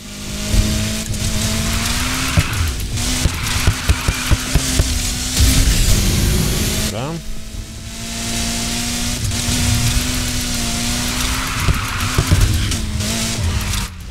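Tires squeal and skid as a car drifts in the racing video game Need for Speed Heat, with a steady loud engine drone throughout and a brief pause in the screech near the middle.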